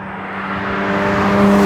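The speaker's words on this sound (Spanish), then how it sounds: "Miren a la velocidad que pasan los autos" Cars rushing past at speed on a Chilean highway near a tunnel, a broad whooshing roar that builds steadily with a faint tonal whine.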